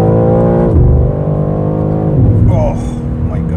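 A 2022 BMW M3 Competition xDrive engine revs loudly close by, its pitch dropping through a downshift and then climbing again over a few seconds, with a voice talking over it.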